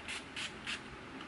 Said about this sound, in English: just for a refreshing touch, just the Australis Makeup Finishing Spritz